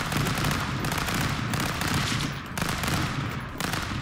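Rapid gunfire in the Stick Fight brawler game: loud, continuous automatic shots in dense bursts with brief pauses between volleys, close and harsh.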